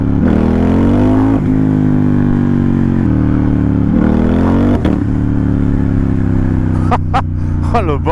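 A Ducati Diavel built as a loud dragster motorcycle revs hard and close, its engine note climbing in repeated sweeps with shift breaks, then sharp crackling pops near the end.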